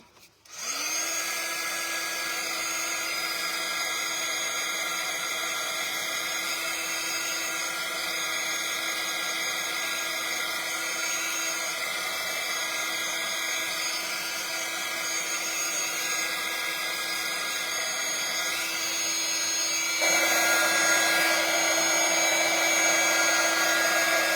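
A hair dryer switches on and runs steadily over a painted mixed media piece on an acrylic panel, a close, loud, continuous whine that shifts slightly in tone near the end.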